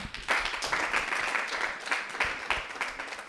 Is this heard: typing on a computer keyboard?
no